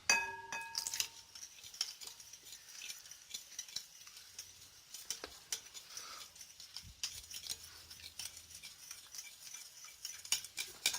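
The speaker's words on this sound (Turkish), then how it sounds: "Tutkalla suyu biraz karıştırıp kıvamını tutturacağız." Glue and water are stirred together for slime, giving quiet, intermittent clinks and scrapes of a utensil against the container, with no talking.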